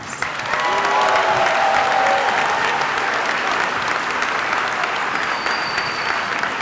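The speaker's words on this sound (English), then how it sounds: "Can we give them a round of applause?" Commencement audience applauding in a large ceremony hall, steady dense clapping sustained throughout with a faint crowd murmur and brief tonal sounds above it.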